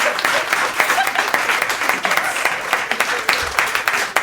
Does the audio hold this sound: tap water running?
no